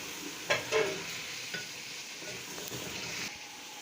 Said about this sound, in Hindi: अब 1-2 मिनट के लिए मैं इस मसाले को अच्छा करके भूनूँगी